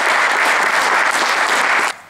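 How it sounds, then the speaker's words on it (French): Audience applause for a hound pack and its handlers at a hare-trail pack competition, a dense steady burst of clapping that cuts off abruptly near the end. "Prestation du samedi, vous pouvez les applaudir."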